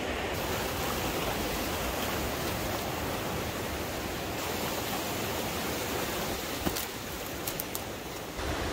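River flowing through a forest along a trail in British Columbia, a steady broadband rushing wash of water that fills the whole clip evenly, close and loud with no talking.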